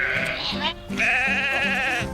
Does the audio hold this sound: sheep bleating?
yes